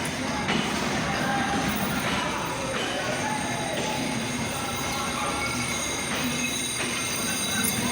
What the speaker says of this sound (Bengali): দেখেন কত বড় ট্রেন, অনেক সুন্দর ট্রেনটা।